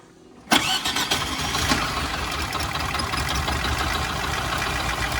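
A VAZ 2109 Baltic car engine, tested for compression, cranks briefly and catches with a loud burst at about half a second, then runs on in a steady, rough, close-up idle.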